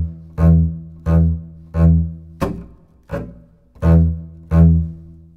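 Deep plucked double bass notes and percussive chop slaps form a slow, steady half-time groove of about seven strokes, close and loud, with no voices.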